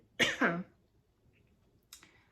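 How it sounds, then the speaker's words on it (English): Two quick, dry coughs close to the mic, followed by a faint click in an otherwise quiet room. "I keep having a tickle like I want to cough."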